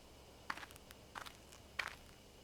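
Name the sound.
footsteps approaching, from a video game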